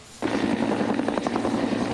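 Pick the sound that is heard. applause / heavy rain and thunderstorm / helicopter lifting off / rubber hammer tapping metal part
helicopter lifting off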